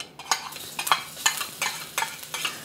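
Ginger and garlic being stirred in hot corn oil, a faint close sizzle broken by a rhythmic series of about seven brief scraping strokes.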